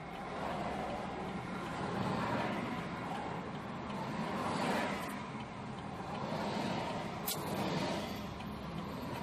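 Steady road traffic rolls past on a busy street, a continuous broadband rumble of cars and heavier vehicles that swells and eases, with a brief sharp hiss near the end, and no talk over it.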